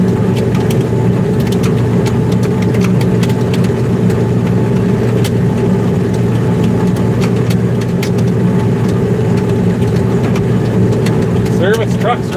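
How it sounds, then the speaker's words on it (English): A service truck engine running steadily on a farm during malt barley swathing, with a loud, constant low hum and drone that holds even throughout. "Service truck's running like a top."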